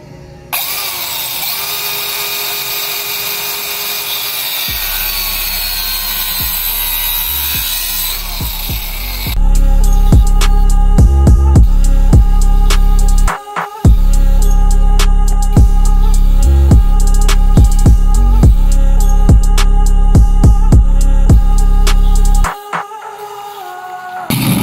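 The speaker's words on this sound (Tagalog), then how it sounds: "So meron ako ditong portable grinder." A portable grinder cutting during a Ralliart carbon fiber handbrake lever installation, loud and close: a steady whine at first, then harsh, sustained cutting with rattling bursts and a brief pause midway.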